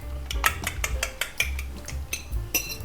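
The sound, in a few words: eggs being beaten with sugar in a bowl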